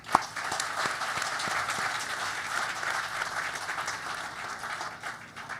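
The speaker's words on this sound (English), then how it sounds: "A big round of applause for them." An audience at a gathering of Indian-origin achievers in the USA breaks into sustained applause, a dense, steady wash of many hands clapping that fades slightly toward the end.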